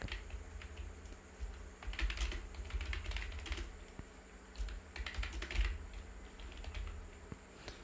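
Computer keyboard keys are tapped in irregular, quick clusters with short gaps while a ledger narration is typed into accounting software, close and fairly quiet over a low background hum.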